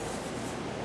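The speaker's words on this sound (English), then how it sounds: "I may go ahead and sand that a little bit with some 180" A steady, even rasp of 180-grit sandpaper rubbed across an epoxy-coated surface to knock off water spots, close and continuous for under a second with no pauses.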